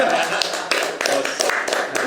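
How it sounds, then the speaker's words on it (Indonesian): Audience clapping at a tax-office talk show, a fairly loud burst of hand claps with a loose, uneven rhythm, voices mixed in underneath. "Kita tepuk tangan dulu"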